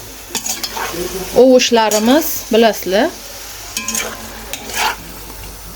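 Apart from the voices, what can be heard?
frying and stirring bell peppers in a pan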